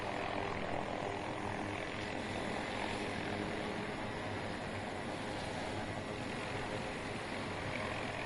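In-game helicopter in Battlefield 2042, a constant dense rotor and engine roar filling the whole stretch, steady and loud without breaks or speech.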